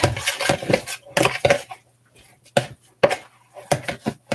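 Bean burger mix stirred in an olive-oiled pan, with irregular bursts of scraping and clattering utensil strokes against the pan separated by brief pauses.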